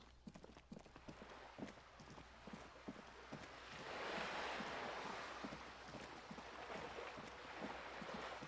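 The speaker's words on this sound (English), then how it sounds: "Water's so loud now." Water and waves wash loudly in the Disco Elysium video game, a steady surf swell rising midway, with faint rhythmic clopping taps and wind layered underneath.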